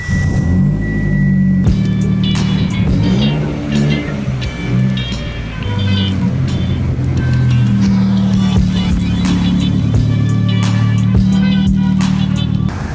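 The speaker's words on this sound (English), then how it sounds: "First time I've started this car up in a week." A widebody Mitsubishi Evo X, sitting unused for a week, fires up and settles into a loud, rumbling idle with small revs and a steady drone, heard up close with no voices.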